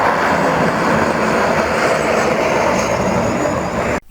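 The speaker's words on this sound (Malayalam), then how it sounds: "കൊച്ചിയിൽ സീപ്ലെയിൻ ലാൻഡ് ചെയ്തു" A loud, steady seaplane engine roar fills the whole stretch, broad and close, cutting off abruptly at the end, at Kochi airport.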